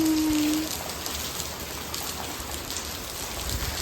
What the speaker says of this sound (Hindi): तो क्या जोर से बारिश पड़ रही है, चारों तरफ पानी ही पानी